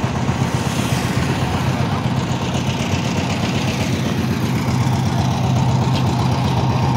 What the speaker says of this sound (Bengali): ইয়ে কেটিএম ডিউক 390 সুন্দর